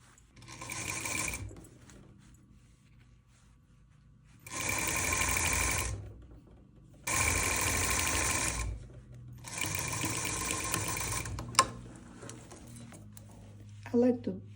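A sewing machine stitches a pencil skirt vent in four separate bursts of rapid, close whirring, with quiet pauses and small handling clicks between them.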